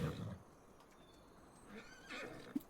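Horses in the Farming Simulator 25 video game give faint whinnies, with a soft clip-clop of hooves and a brief louder knock near the end.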